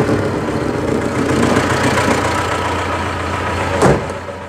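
A T-40AM tractor with a PLN 3-35 plough hitched on runs at a steady low rumble, close and fairly loud, with a brief louder burst near the end.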